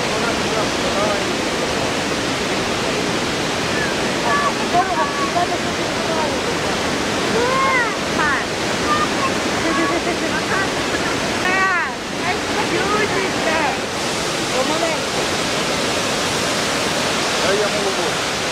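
Dzhurynskyi waterfall in Ternopil Oblast, Ukraine, a river pouring over the falls with a steady, dense roar of rushing water that holds constant throughout, with faint voices underneath.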